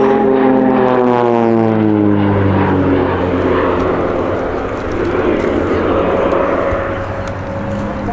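Swiss Air Force Pilatus PC-7 propeller trainer roars loudly through an aerobatic display, its engine tone sliding downward in a strong Doppler sweep as it passes close by, then fading into a broad rushing drone.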